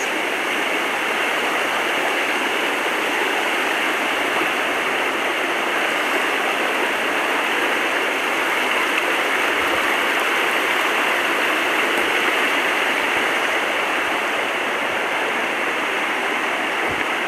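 Steady roar of rushing water at Browns Falls, a waterfall and stream tumbling over rocks, broad and continuous for the whole stretch with no voices.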